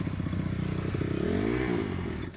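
A motocross bike engine revs loudly and steadily at the end of a race, the pitch climbing and then falling back as the throttle opens and eases off.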